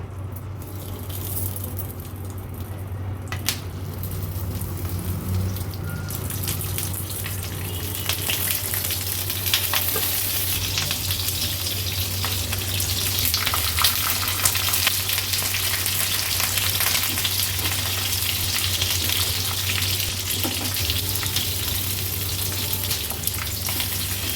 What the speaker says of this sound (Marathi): एक एक करून सर्व मिरच्या आपण ह्या तव्यामध्ये सोडल्या आहेत